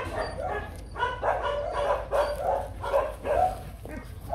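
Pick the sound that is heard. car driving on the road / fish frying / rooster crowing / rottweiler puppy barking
rottweiler puppy barking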